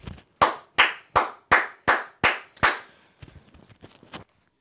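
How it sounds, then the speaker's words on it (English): Hands clap seven times in a quick, even rhythm, each clap loud, sharp and close, during a fan's reaction to a Colorado football game; softer, irregular taps and knocks follow, with no talking. "And I'll clap it up."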